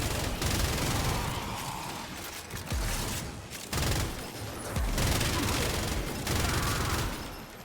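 The player's gun in the shooter game Warframe fires in sustained loud bursts, with dense rapid gunfire filling the scene and brief dips between volleys.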